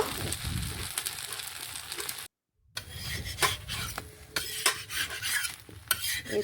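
Sim pitha fry in oil on a clay stove with a soft, steady sizzle, broken by scraping and turning with a metal spatula and a brief silent gap.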